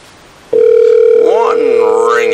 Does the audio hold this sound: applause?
no